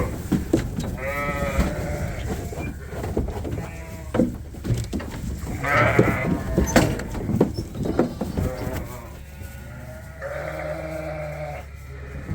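Sheep bleat repeatedly at a farm preparing for a new group of lambs, several loud, drawn-out calls from close by with shorter ones in between and steady background noise throughout.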